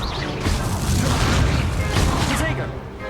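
Spell-casting effects from a Harry Potter video game, an Incendio fire spell among rapid duels of other spells, heard as dense booming whooshes and crashes, loud and continuous, with a voice shouting over the effects.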